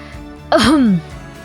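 A single close, voiced throat clearing with a gravelly rise and fall, lasting about half a second against a quiet background.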